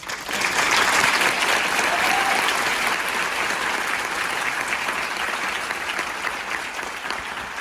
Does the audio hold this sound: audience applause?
yes